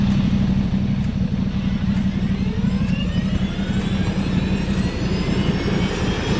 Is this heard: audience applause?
no